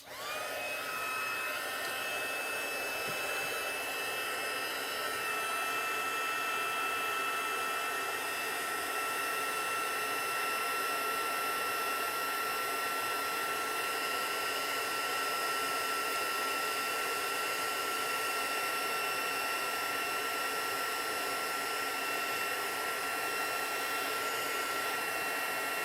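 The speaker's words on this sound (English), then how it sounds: "Now I'm going to bring in my heat tool" A heat tool blows steadily and loudly without a break while embossing powder on a stamped birthday card, a continuous whirring hiss with a faint high whine running underneath.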